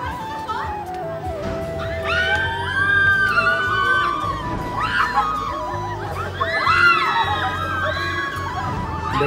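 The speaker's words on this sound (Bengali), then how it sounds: "দেখতে পাচ্ছ কিরকম চিল্লামিল্লি করছে।" A crowd of children and adults shouts, screams and laughs in a busy public park, a dense, lively din of overlapping voices that rises and falls over several seconds, with nearby chatter mixed in.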